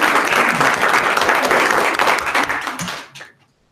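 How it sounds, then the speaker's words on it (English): A room of spectators at a geography bee breaks into dense, close applause that holds steady for about three seconds, then quickly tapers off into silence. "Give them a round of applause"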